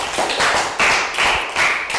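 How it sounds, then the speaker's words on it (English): A school class claps for a student during an English lesson, rhythmic bursts of clapping in roughly four groups, close and fairly loud. "Round of applause for Lakau."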